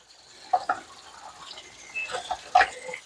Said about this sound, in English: So I'm going to give these carrots one more quick rinse.